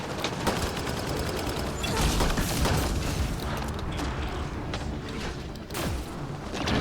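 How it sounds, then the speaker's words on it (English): Dense, continuous rapid gunfire and mechanical clatter from combat in Mass Effect Andromeda, loud and sustained with booming impacts layered over the volleys. "Shooting as fast as I can."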